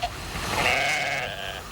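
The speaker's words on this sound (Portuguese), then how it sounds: "Essa é uma ovelha primitiva," A black Crioula Serrana wool sheep, a primitive breed, gives one long, wavering bleat close by in a farm paddock, with faint outdoor noise underneath.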